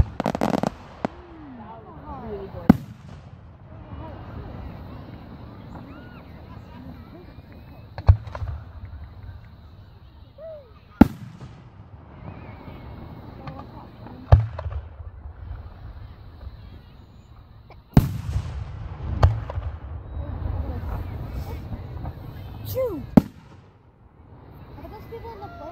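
Fireworks at a Saline sesquicentennial celebration, with sharp distant booms and crackles recurring every few seconds over crowd murmur and talk.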